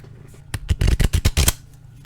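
A stack of Smarty Cardy presidential flash cards handled and riffled close up, a quick burst of about eight crisp flapping snaps over a second, then quiet.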